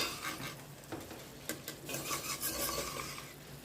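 A spoon stirs a pot of mutton, drumstick and egg curry, with repeated scraping and clinking over a gentle simmer, close and steady, no talking.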